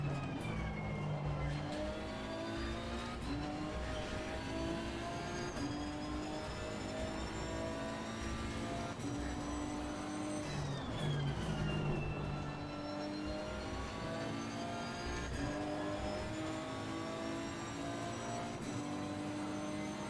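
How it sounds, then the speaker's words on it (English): Race car engine and exhaust in the Assetto Corsa Competizione racing game, a continuous loud drone whose revs climb and fall through repeated gear changes, with a sharp shift around the middle and no talking. "you get a lot of that growling exhaust note and intake noise"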